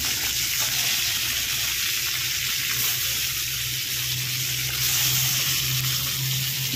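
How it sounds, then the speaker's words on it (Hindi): Fish pieces frying in hot oil, a loud continuous close-up sizzle with steady crackle throughout and no talking. "मु तेल गरम करनेली तापर मु माछ सब गुटी गुटी कर"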